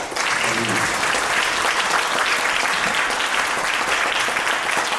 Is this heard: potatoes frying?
no